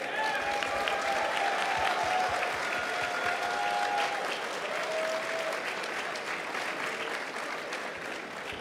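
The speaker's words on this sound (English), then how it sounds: "Let's give these guys a round of applause." Steady applause from a crowd at a QuakeCon 2014 capture-the-flag showmatch, dense clapping that holds fairly loud throughout and fades slightly near the end, with a few whistles or cheers on top.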